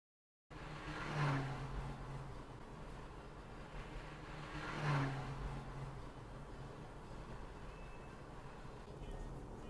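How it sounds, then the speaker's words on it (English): A fire engine approaches on a UK road, its engine roar swelling twice as it nears, heard from inside a passing car over steady road rumble. "It's a fire engine."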